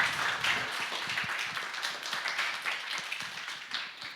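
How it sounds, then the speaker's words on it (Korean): Applause from an audience welcoming a speaker at a youth mentoring event for Korean citizens in Ecuador, a soft, continuous patter of many hands heard at a moderate distance for several seconds. "큰 박수로 맞이해 주시기 바랍니다."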